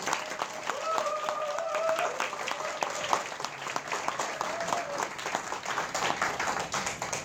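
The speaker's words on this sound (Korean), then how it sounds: "여러분 다시 한번 큰 박수 부탁드립니다" A crowd at a Seoul education superintendent candidate's campaign launch claps continuously while a tonal melody plays faintly, the applause steady and moderately loud throughout.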